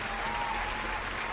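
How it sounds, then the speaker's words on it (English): Canned applause from a fake studio audience fills the moment, a dense continuous clapping at an even level with no voices over it. "Yes, our crowd is going wild."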